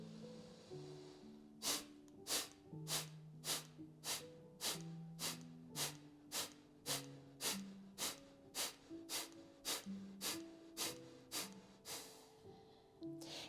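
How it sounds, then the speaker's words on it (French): Rapid forceful Kapalabhati yoga breathing, a steady train of about eighteen sharp nasal exhalations at a quick even rhythm, close and loud, while soft background music plays underneath. "C'est la respiration du feu Kapalabhati en yoga pour énormément ramener d'énergie à l'intérieur."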